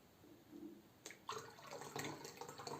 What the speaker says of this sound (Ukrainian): І доливаю до неї гарячої води.